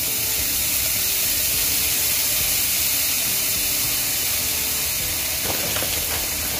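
Cheese sizzling in a hot cast iron pan, a steady loud hiss and crackle of frying that runs without a break, with a few sharper pops near the end.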